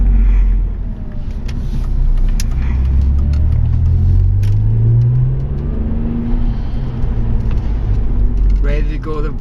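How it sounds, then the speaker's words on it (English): An Alfa Romeo car revs and accelerates hard, a loud close engine rumble rising in pitch through the gears over road noise, with a voice faintly speaking at times. "Car accelerates responsively. All you have to do is kick the revs up and put your foot to the floor."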